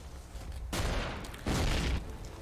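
Rail cannons fire in the Xenonauts X-Division strategy game, with two heavy bursts of booming shots separated by quieter background, heard at moderate level with no talking.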